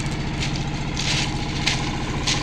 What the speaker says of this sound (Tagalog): Pinapa-warm up niya yung motor niya.